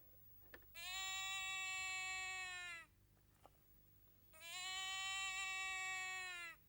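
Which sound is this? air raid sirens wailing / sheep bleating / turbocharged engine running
sheep bleating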